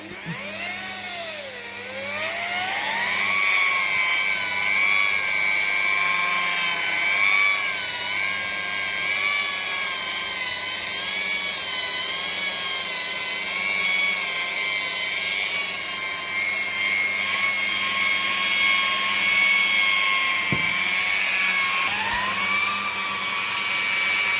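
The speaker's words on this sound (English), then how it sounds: "what we're going to do is just machine polish this now" A rotary machine polisher works over a sanded Nissan 350z headlight lens, giving a loud, steady high-pitched whine that wavers slightly in pitch as the pad moves, running continuously close up with no talking.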